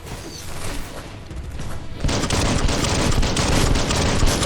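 Rapid gunfire from the video game Biomutant, dense and continuous, swelling into a heavier, louder barrage of overlapping shots partway through.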